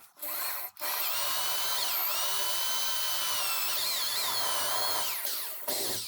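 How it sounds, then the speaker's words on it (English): A power drill bores dog holes through the wood top of a shop-built out-feed and assembly table, a loud, steady, high whine that runs almost unbroken with brief pauses and small pitch shifts as the bit cuts. "And we'll go ahead and get these drilled."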